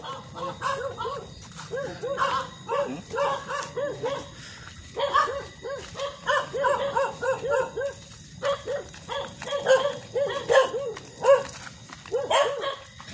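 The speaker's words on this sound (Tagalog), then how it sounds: "Ang aso." A dog barks repeatedly outdoors at night near a tree, rapid bursts of sharp barks and yips in uneven clusters, fairly close and persistent over a low background hum.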